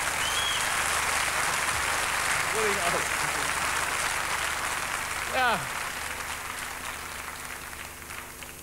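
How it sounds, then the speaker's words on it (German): Dense, roaring audience applause pours on continuously, loud and close, at a German television game show from 1987, with a brief spoken word over it. "donnernder Applaus."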